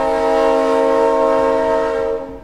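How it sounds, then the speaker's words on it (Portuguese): A train horn in the video game Sheltered sounds as the train arrives, one loud sustained chord-like blast holding steadily before fading out at the end. "o trem tá chegando"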